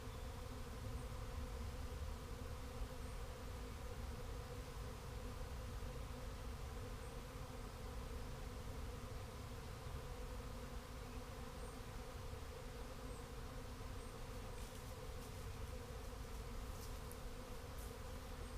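A large honeybee swarm buzzing in a dense, continuous drone, a steady outdoor hum with no breaks that sounds close and surrounding, with no voices.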